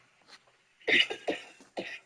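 A person coughs several times in a quick, close burst after a faint softer cough, loud and clear with no talking over it.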